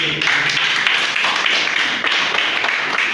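Audience applause at a French-language health product presentation, a dense steady wash of many hands clapping close and loud, with some voices faintly mixed in throughout.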